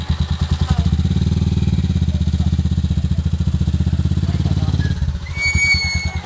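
A habal-habal motorcycle taxi engine runs steadily close by with a rhythmic low putter through most of the ride, then eases off near the end as faint high tones come in.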